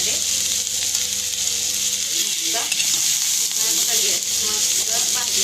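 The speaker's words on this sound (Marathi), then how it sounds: "अंड घालून घेते त्यामध्ये," An egg fries in a pan with Maggi masala, giving a loud, steady sizzle with occasional scraping stirs and no voice over it.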